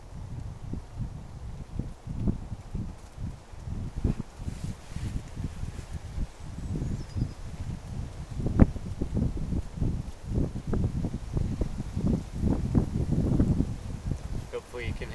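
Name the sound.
wind blowing outdoors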